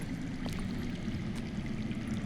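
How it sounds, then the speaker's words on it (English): Water running underground in the video game Game of Thrones: a steady, low rushing flow with a faint trickle, holding at an even level throughout, with no voices over it. "I hear water. From underground."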